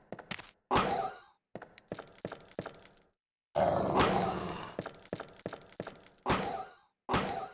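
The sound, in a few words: zombie dog growling in Resident Evil 2 video game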